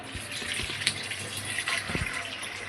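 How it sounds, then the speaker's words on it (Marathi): Water is poured into a pot, a soft continuous splashing and trickle with a few small clinks, fairly quiet and close. "याच्यामध्ये पाणी घालूया."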